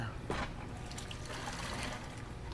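Water draining out of a 125-gallon aquarium, a soft, close trickle and gurgle that runs steadily with a brief splashy burst near the start.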